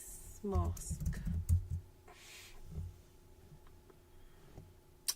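Soft clicking of typing on a computer keyboard at a craft desk, partly under a person's speech near the start, then quieter scattered taps.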